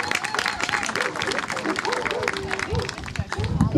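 Spectators at a dog dance show clap after a freestyle routine to self-written music, a busy steady patter of applause mixed with crowd murmur and a voice speaking over it.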